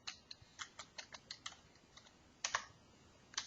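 Quiet, close keystrokes on a computer keyboard, a quick irregular run of taps followed by a brief pause and a few louder key presses.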